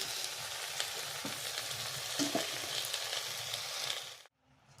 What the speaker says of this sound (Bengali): ওর মধ্যে কুচনো পালং শাক, আলু এবং কচু দিয়ে দেব।